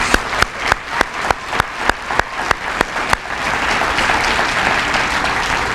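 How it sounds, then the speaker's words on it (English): Applause for award winners at a senior awards banquet: a run of evenly spaced, loud single claps close by, then a full crowd ovation of dense clapping that holds steady to the end. "How about a round of applause for all our winners?"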